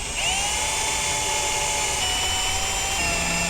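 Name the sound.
drilling a hole through steel plates with a drill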